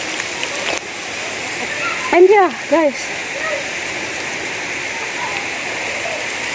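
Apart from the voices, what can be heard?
waterfall and stream flowing in Ukambani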